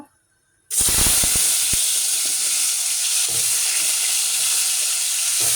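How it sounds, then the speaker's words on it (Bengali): Salted potato pieces dropped into hot oil, hissing and sizzling loudly from the first splash after a brief silence, with a steady crackling fry and occasional stir clatter. "তেল গরম দিছে এখানে আগে আলুগুলা ভাইজে নিব"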